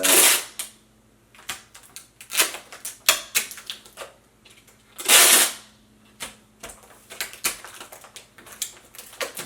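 Cheap packing tape is peeled off the roll and pressed down to seal gaps around a room vent, giving repeated loud ripping bursts and sticky crackles in an irregular rhythm, close up with no talk.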